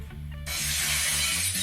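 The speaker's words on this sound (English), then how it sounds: "Broken glass!" Glass shatters loudly in a sudden crash after a brief quiet lead-in, then a sustained bright spray of breaking shards over a low background hum, played as a sound in a guessing game.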